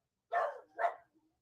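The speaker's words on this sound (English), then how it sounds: "Pardon my dog barking." A small dog at home gives two quick, close barks in a row, then falls silent.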